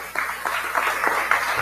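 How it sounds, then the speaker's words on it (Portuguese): A church congregation claps together in a short burst of applause, a dense patter of hands heard at moderate distance indoors. "Vou dar um aplauso a Jesus."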